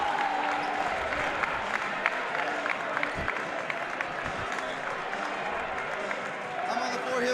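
Basketball crowd cheering and applauding after a home victory, a dense wash of clapping and shouts filling a college gym, steady and moderately loud with occasional louder claps and voices mixed in.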